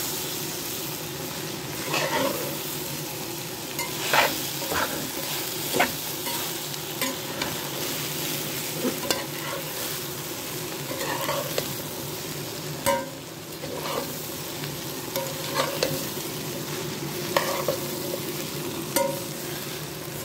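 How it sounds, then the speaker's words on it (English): Curry with vegetable chunks, ginger, pepper and garlic sautéing in a pot, giving a steady close sizzle broken by frequent scraping and stirring knocks throughout. "And I'm going to saute a bit."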